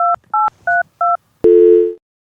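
Four short telephone keypad tones beep in quick succession, followed by a longer steady tone, as a phone is dialed to call the police.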